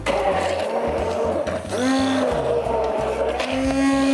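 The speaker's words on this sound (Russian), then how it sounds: "Огурцы нарезали кубиками и смешали вместе с айраном и зеленью в блендере." A kitchen blender whirs as it mixes diced cucumbers with ayran and herbs for a Tatar drink. The steady, close motor drone shifts pitch partway through and runs continuously without speech.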